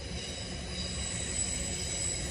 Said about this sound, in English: It's like the third train that I've seen right now.